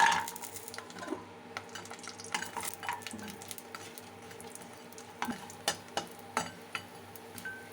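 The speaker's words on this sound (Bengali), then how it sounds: "এবার বড়িগুলোকে লাল লাল করে ভেজে নেব" Urad dal bori (lentil dumplings) sizzle in hot oil in a kadai, a soft steady frying hiss broken by sharp clinks and scrapes of a spatula stirring against the metal pan.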